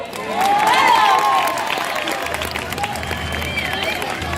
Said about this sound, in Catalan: Aneu aplaudint, aplaudiu!